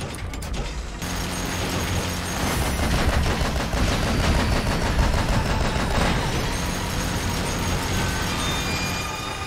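Sustained gunfire in the video game Metal Gear Solid V, set in Africa during a helicopter extraction, with dense overlapping bursts and explosions forming a loud, continuous barrage for several seconds.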